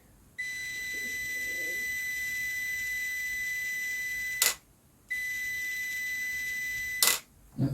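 Multimeter continuity beep during a test on a workbench fuse: a steady high tone sounds for about four seconds, cuts off with a brief click, then returns for another two seconds before stopping again.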